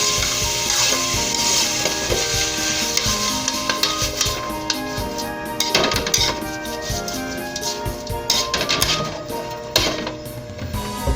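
Potato gets mixed with salt and pepper in a pan on high heat for vegetable lumpia filling, a steady run of scraping and clattering stirring strokes over a low sizzle, with no talking.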